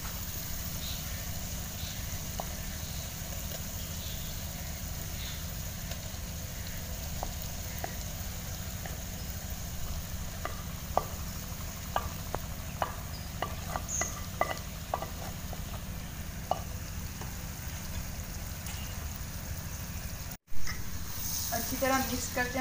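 Spices and mashed potatoes frying in a pan for aloo bharta, a steady sizzle with scattered scraping and stirring clicks that runs on for a long stretch, followed by a brief knock near the end.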